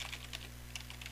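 Rapid keystrokes clatter on a computer keyboard as code is entered, a quick run of light clicks over a low steady electrical hum.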